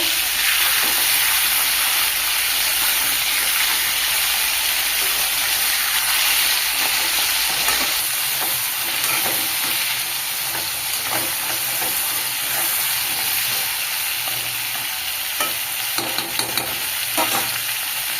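Crab fries in hot oil in a wok while the pieces are turned, a loud steady sizzle broken by scraping, stirring clatter from the utensil, close-up and without talk.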